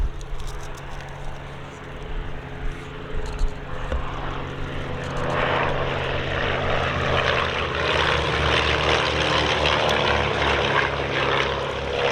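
Propeller aircraft flying at the Shuttleworth air display, a mostly wooden plane with a modest engine, its droning buzz loud and continuous, swelling and growing rougher as it passes close overhead.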